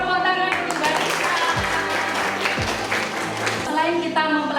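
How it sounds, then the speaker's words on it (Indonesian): Classroom applause for a student, a dense burst of clapping mixed with chatter and voices throughout, with some tonal voice harmonics cutting in over the steady clapping. "Tepuk tangan untuk Mbak Tika."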